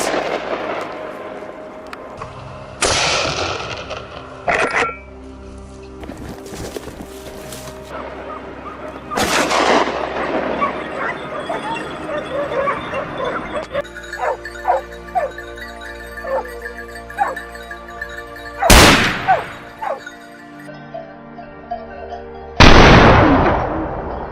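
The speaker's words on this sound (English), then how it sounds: "my friends also opened fire simultaneously, continuing to take down several more targets" Gunfire while hunting wild boars behind a farm's barbed wire fence, several sharp loud shots spaced seconds apart, mixed with dogs barking and whimpering and other rustling field noise.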